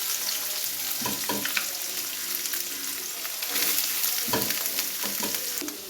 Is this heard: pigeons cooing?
no